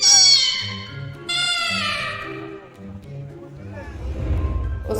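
A domestic cat gives several loud, drawn-out meows in quick succession, close to the listener, with a lower rumbling noise near the end.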